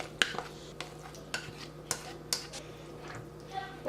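A spoon works through a thick corn mixture with cream cheese and Parmesan in a bowl or pan, giving soft repeated scrapes and light clinks in an uneven rhythm, close and fairly quiet, no talking.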